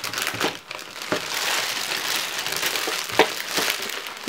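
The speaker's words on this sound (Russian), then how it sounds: "Извиняюсь за шуршание, но по-другому это никак не сделать." Plastic surprise-pack bags from an Avon catalogue rustle and crinkle continuously up close, with several sharper crackling crunches as the packaging is handled.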